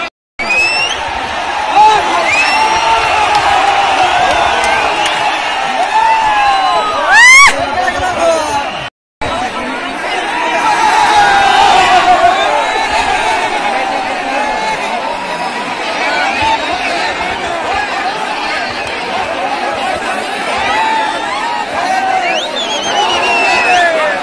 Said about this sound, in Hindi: यहाँ पर कितना भीड़ है, यहाँ पर कड़ा लड़ाई देखने के लिए